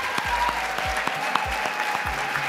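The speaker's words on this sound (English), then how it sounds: "how about a round of applause for all the people around you who've supported you" A crowd at a medical school Match Day celebration gives a round of applause, a steady close wash of clapping with periodic low thumps, heard without speech.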